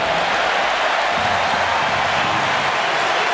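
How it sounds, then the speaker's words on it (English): Stadium crowd at a Barcelona versus Arsenal football match cheering as Luis Suarez comes out to warm up, a steady broad roar of many voices that holds level throughout, distant and diffuse. "the cheer you can hear is because Luis Suarez is coming out to warm up as well"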